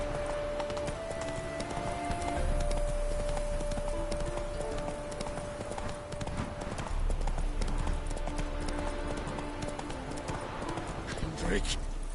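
Horse hooves clip-clop steadily in The Witcher 3 video game, a moderate rhythmic trot mixed under game music and ambient sound, with a faint tone sweep near the end.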